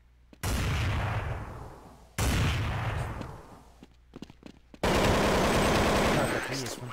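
Bursts of gunfire in the video game Half-Life, three loud sustained volleys of rapid shots separated by brief gaps, close and harsh, with no speech.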